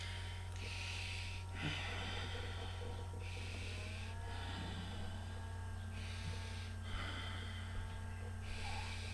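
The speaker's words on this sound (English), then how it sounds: "Five more breaths." Slow, deep breathing during a yoga practice, with long rhythmic inhales and exhales repeating every couple of seconds, soft and close, over a steady low background hum.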